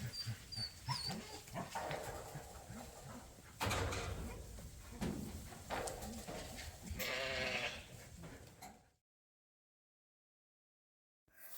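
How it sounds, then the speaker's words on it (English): Ewes and ewe lambs, roughly 120 of them, crowd a chute at a farm during deworming and sorting work, giving loud overlapping bleats and animal noise for about nine seconds before a sudden cut to silence. "I think there was about 120 ewes here, mostly ewe lambs."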